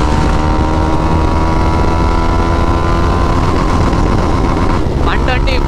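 A KTM Duke 390 motorcycle accelerates hard through the gears on a highway, its engine loud and close with rising, shifting pitch under heavy wind roar, while a rider's voice talks over it.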